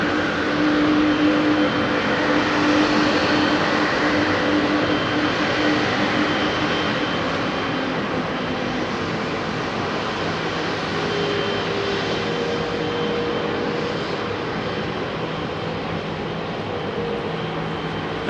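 A Boeing 777 at Heathrow Airport spools its jet engines up, a loud continuous roar with broadband hiss and a faint whine, holding steady and close for the whole stretch without speech.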